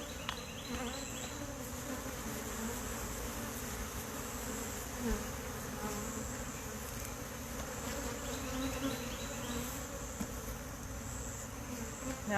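Honey bees swarming around an opened hive as frames are added, a steady close drone of many wings humming continuously with no break.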